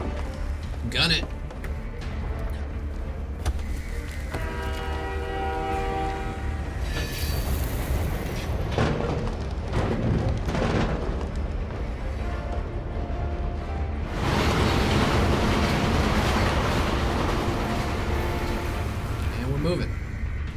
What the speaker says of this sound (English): Hooked up to a train.